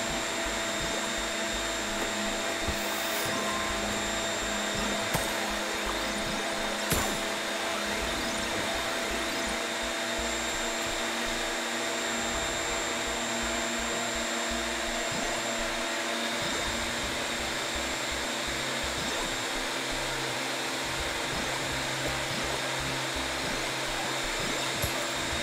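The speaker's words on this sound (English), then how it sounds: "It's a shop vac. He's sweeping up plaster and dust and whatever." A shop vac in the video game Gimmick! 2 sweeps up plaster and dust with a constant, loud motor whine and rushing airflow that holds steady, broken only by a few faint clicks.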